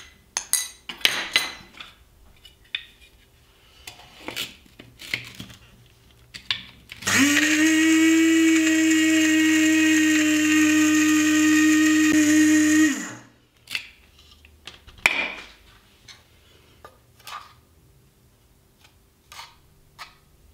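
Fennel and orange are whizzed with sugar in an electric blender to make flavoured icing sugar: one loud, steady whirring run of about six seconds, close by, with light clinks of utensils before and after and no talk.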